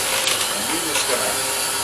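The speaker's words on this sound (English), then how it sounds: "Then you grab your hand mixer." Electric hand mixer whipping mashed yams for a pork sausage and yam casserole, a steady, loud whirring drone with beaters churning through the thick mash, close by and continuous.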